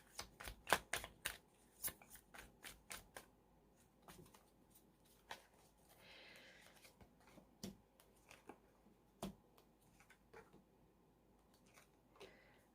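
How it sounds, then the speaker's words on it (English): Tarot cards are pulled and shuffled by hand, giving a quick run of crisp flicks and snaps at first, then sparser soft slides and taps, close and quiet, with no voice. "So let's pull some cards here for my Pisces."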